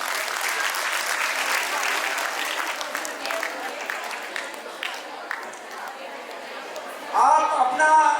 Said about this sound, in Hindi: हाथ ऊंचे खड़े करके कृपया तालियां बजा के इनका अनुमोदन करें